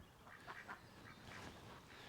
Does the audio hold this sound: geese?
yes